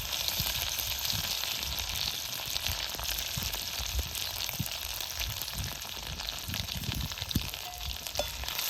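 Crushed garlic and coconut hit hot oil with curry leaves, giving a loud, continuous crackling sizzle that stays dense and even from start to finish.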